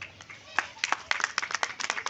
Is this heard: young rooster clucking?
no